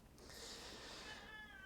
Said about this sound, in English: My cat is meowing for attention and food